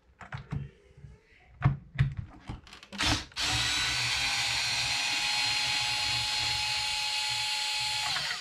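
A power drill or driver runs continuously, steady and close, while removing bolts to free the lower front bulkhead of a Traxxas Maxx 4S RC truck, after a few short clicks and taps.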